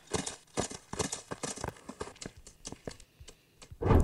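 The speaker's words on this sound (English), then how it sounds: "I kind of should ride my horse around here" Horse hooves clip-clop in a quick, uneven rhythm as a horse is ridden in the game Horse Riding Tales, close and clear, ending with a brief louder burst.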